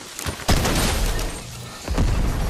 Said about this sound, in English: Whose grenades are those?